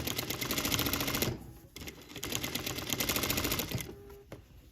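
Sewing machine stitching a hem while altering a garment as an alternative to cover stitch, running in two steady rapid bursts with a short pause between, close and fairly loud.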